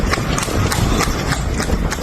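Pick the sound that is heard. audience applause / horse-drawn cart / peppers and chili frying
horse-drawn cart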